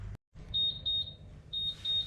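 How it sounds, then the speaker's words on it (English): A kitchen oven timer alarm beeps while a keto orange cake bakes: quick runs of high, thin electronic beeps, pausing briefly before starting again, fairly faint over quiet room noise. "there goes the oven's alarm"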